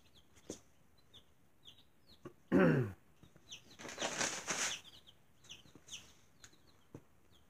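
Newly arrived baby chicks in a brooder make scattered, faint chirps and peeps with a few short wing flutters, including one brief louder burst of flapping, and no talking.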